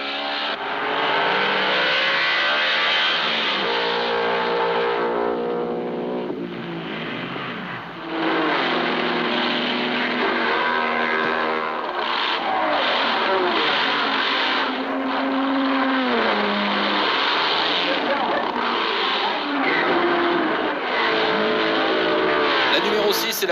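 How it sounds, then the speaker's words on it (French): A grey Ferrari 250 GTO race car at the 1962 Le Mans 24 Hours, its engine revving and shifting loudly under continuous talk from a commentator. "Gros plan sur la Ferrari numéro 17, cette fois, la superbe 250 GTO grise de Bob Grossman et Glenn Roberts."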